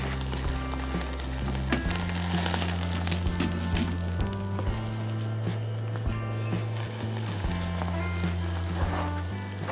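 A bone-in cowboy steak searing in a Dutch oven gives a steady, loud sizzle and crackle, while sustained low musical tones play underneath throughout.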